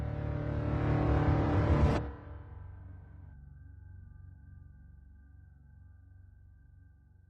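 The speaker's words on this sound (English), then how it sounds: "They pull onto the BR-163 highway with loads of fresh logs." Logging trucks loaded with fresh logs pull onto the BR-163 highway in the Amazon. A loud, rising engine roar lasts about two seconds, then drops to a steady low rumble that slowly fades. No one speaks.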